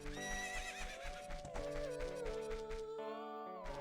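A horse whinnies loudly in the video game The Legend of Zelda: Ocarina of Time, a long wavering neigh up close over rhythmic hoof clip-clops and game music.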